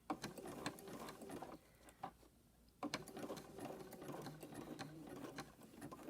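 A sewing machine zigzag-stitching fabric-wrapped rope together for a coiled bowl, its quick mechanical chatter and ticking running in bursts with a short pause partway, fairly quiet.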